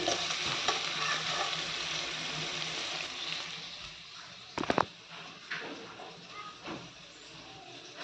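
Onions sizzle and hiss in a pan as a spoon stirs and scrapes them, with a few sharp clinks; the frying is loud at first, then fades softer.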